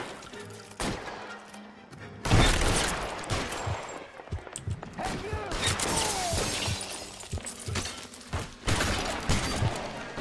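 Gunfire in L.A. Noire, sharp shots and bursts scattered through a noisy shootout with crashing impacts, loud and close, with people talking over the action.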